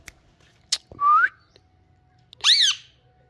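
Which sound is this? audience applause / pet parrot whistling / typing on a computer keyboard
pet parrot whistling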